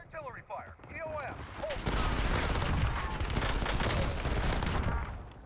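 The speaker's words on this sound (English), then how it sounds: "One by artillery fire." Artillery and gunfire in the battle royale game Call of Duty Warzone, a dense continuous barrage of loud blasts and rapid shots that swells after a short stretch of quieter sounds at the start.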